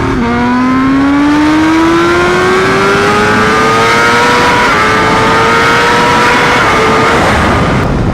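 BMW HP4 motorcycle with an SC Project exhaust accelerating hard through the gears during a top-speed run, its loud rising engine howl climbing steadily with wind noise, close and continuous, no talking.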